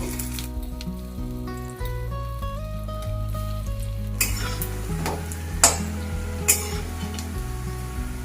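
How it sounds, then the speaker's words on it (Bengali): Fish roe fritters are turned over in a pan of hot oil, giving a continuous crackling sizzle with a couple of sharp utensil clinks, all under loud background music. "এবার আমি বড়াগুলোকে উল্টে পাল্টে ভেজে নেব।"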